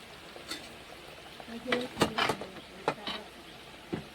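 A pot of egg curry bubbles and simmers nearby, with soft clinks and stirring scrapes breaking in at irregular moments.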